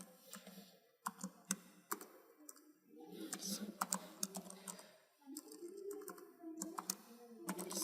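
An SQL query is typed on a computer keyboard in quiet, uneven bursts of clicky keystrokes with brief pauses between, close and faint.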